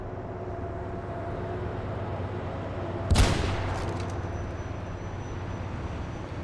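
A single loud burst of gunfire in Mirror's Edge cracks out midway over a steady low engine-like hum, leaving a short decaying tail, with no talk.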